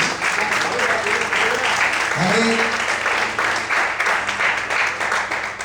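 A church congregation applauds and praises the Lord in a Portuguese-language worship service. Loud, continuous clapping and cheering fill the space, and a voice briefly calls out over it.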